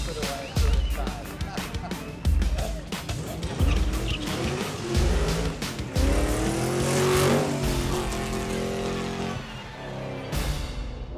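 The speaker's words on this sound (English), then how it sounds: "Crowd pleasers included the loud and proud Mercedes AMG of Thuka Mechanicos and the tyre-smoking Castrol Jaguar XJR of Derek Dearlove." Loud race car engines, including a Mercedes AMG and a Castrol Jaguar XJR, roar and rev through repeated gear changes at a hillclimb, tires squealing as the cars accelerate hard nearby.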